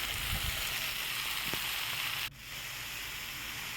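Vegetables added to mushrooms frying in a pan, a loud broad sizzle that drops suddenly and then settles into a steady softer hiss.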